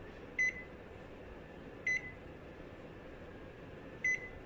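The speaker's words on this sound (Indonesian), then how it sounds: "So kita akan panaskan dalam oven" Three short electronic beeps from an oven heating a frozen tom yum chicken meal, spaced unevenly over a steady low hum, fairly quiet.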